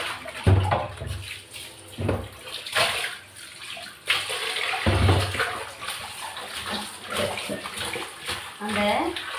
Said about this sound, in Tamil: அந்த கறி மஞ்சத்தூள் போட்டு கழுவும் போது